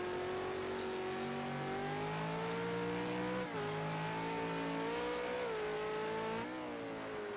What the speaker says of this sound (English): Whoa, a lot of wheel spin on exit of the first hairpin there.